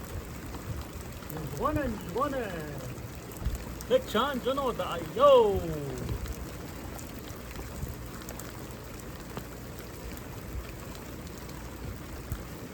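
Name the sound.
rain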